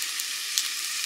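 Panch phoron whole spices crackle and sizzle in hot oil for a Bengali aam shol fish dish, a steady close frying hiss with a few sharper pops, no talk.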